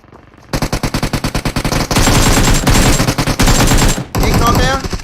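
Rapid automatic gunfire from a powerful gun in PUBG Mobile, first a quick rhythmic burst of shots, then a denser sustained stream of loud, close fire with a short break near the end.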